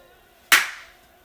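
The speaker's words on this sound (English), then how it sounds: "Oh, clap to end." One sharp hand clap marks a take on a home video set, a single crisp crack with a short decaying tail and near silence on either side.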